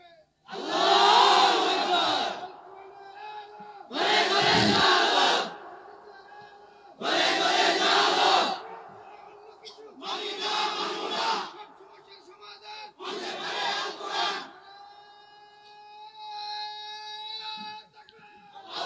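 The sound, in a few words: crowd chanting a slogan in unison at a religious gathering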